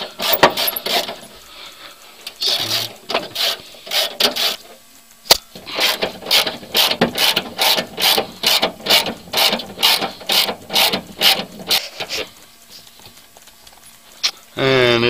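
A hand ratchet loosens 12 mm bolts holding the top cover plate on a Mahindra 1526 HST tractor, giving long runs of quick, close metallic clicks in steady strokes with short pauses between bolts.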